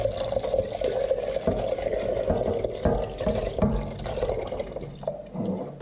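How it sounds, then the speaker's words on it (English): Marinade poured from a tray into a big saucepan over high heat, a steady, close liquid splashing and gurgling that runs continuously for several seconds with faint clatter mixed in. "Pour that in there."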